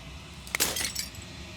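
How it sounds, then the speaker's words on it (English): Glass shattering in the video game Slay the Princess: a single bright crash with a sharp ringing chink, followed by a short spray of tinkling fragments that fades quickly. "As the final fragment of glass shatters"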